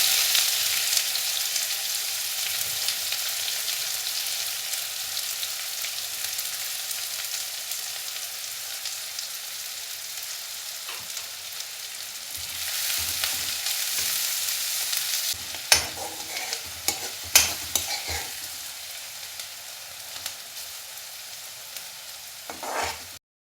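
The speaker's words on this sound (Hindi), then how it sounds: "अब हम इसमें डालेंगे प्याज।" Onions frying in hot oil with whole coriander and cumin seeds, a long, even hiss of sizzling that continues throughout, joined later by clattering spoon strokes stirring the pan; no one speaks.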